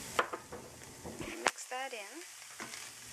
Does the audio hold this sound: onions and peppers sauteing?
yes